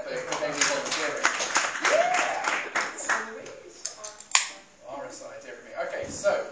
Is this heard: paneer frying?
no